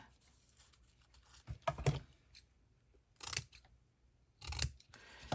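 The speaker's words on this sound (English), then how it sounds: "So I'm just going to cut roughly the shape of the stamp" Scissors snip through thrift-store paper, cutting roughly around a stamp shape: several short crisp cuts come in separate clusters, close and quiet against a near-silent room.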